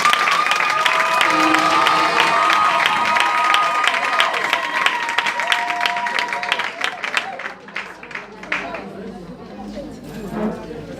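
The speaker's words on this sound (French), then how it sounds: "ce couple mérite une salve d'acclamation" Guests at a civil wedding ceremony in a town hall break into applause and cheering, dense clapping with voices and tonal calls early on, gradually thinning and fading out toward the end.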